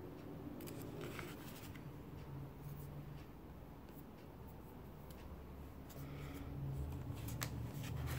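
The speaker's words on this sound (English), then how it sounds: "take my scissors" Scissors snip through magazine paper while pieces are cut for a glue-book collage. Soft, quiet cuts and paper rustles repeat at an irregular pace close by.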